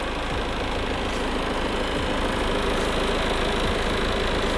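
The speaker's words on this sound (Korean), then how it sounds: "엔진 소리 일정하네요" A fourth-generation Ford Mondeo 2.0 engine idles steadily and evenly, a continuous low rumble with no revving, close by and fairly loud.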